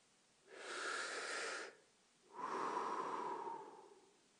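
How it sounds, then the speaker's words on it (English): A person breathing in and out, two distinct breaths, each about a second long, close and clear against near silence. "breathing in and out"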